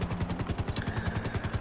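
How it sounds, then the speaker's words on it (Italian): Helicopter in a PlayStation 5 video game, a rapid rhythmic rotor thump beating steadily and loudly up close for a short burst with no talk. "Esco con l'elicottero, almeno faccio prima."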